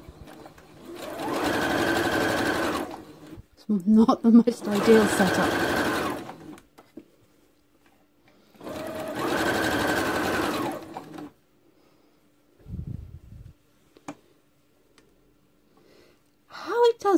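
A sewing machine stitching fabric into a ruffle runs in several loud, steady bursts of a few seconds each, whirring up close, with a person speaking between runs.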